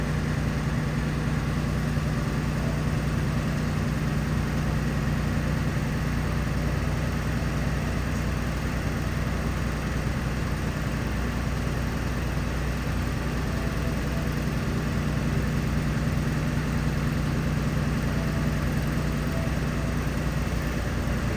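A bus engine runs at fast idle, a raised, constant speed with a continuous low rumble, no breaks and no voices.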